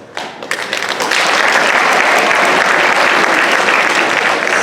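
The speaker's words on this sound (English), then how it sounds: "When I say your name, please stand and we'll give you a round of applause at the end." Audience at a junior high school award ceremony breaks into applause for a student honoree, starting with a few claps and swelling quickly into loud, sustained clapping from a full room.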